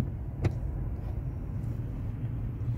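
A car engine droning low and steady while driving in traffic on King Salman Road, heard from inside the cabin as a muffled rumble with a brief knock near the start.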